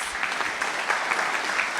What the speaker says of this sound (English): Let's give Jack another round of applause.